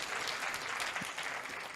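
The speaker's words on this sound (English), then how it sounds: "can we give some more round of applause to these lovely people?" Quiet, steady applause from an audience at a talk, a soft wash of many hands clapping at a distance with no break.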